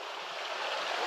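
River water in a clear stream at Matnog, flowing in a steady broadband rush that holds fairly even and swells slightly louder toward the end, with no voices.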